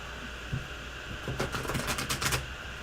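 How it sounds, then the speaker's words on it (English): Soft riffling and flicking of tarot cards being shuffled close by, in a quick burst of crisp papery rustles after a quieter start. "I guess I'll shuffle."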